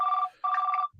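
A phone rings with two bursts of a steady electronic tone separated by a short gap, close and clear, followed by a faint bit of background noise.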